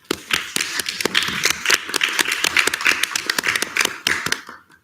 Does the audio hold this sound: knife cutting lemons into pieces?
no